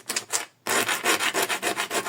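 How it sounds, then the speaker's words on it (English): Sandpaper rubbed on both sides of a small wooden pulley block for a model sailing ship, a brief pause and then steady rhythmic back-and-forth strokes, close and fairly loud, with no talking. "just to make it a little bit neater, a little bit of sandpaper on both sides"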